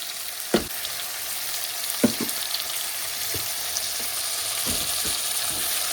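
Shredded coconut and cashews fry and roast in a pan with a steady, close sizzle and crackle, broken by a few sharp scraping knocks as the mixture is stirred.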